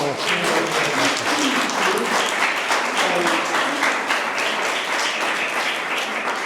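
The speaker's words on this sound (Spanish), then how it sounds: "yo creo que se merece un buen aplauso" A conference audience applauds warmly, with dense, continuous clapping that stays at an even level throughout.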